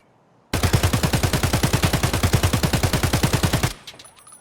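Sustained full-auto burst in Escape from Tarkov firing a mix of BP and tracer rounds, about thirty rapid, evenly spaced shots over three seconds, loud and close, then stopping abruptly with faint metallic clinks afterward.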